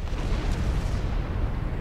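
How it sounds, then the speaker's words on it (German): An explosion in the space combat game Star Trek Online, a deep, sustained rumbling boom that fills the low end and holds steady for nearly two seconds with no talking over it. "Da explodiert etwas."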